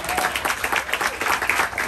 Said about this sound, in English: Give it a round of applause again